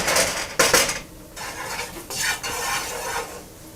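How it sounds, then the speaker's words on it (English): White table sugar caramelizing in a pot over medium-high heat, stirred with steady scraping strokes against the pot and a light sizzle, close and loud, with no voices. "So you stir it around until it starts to get kind of brown."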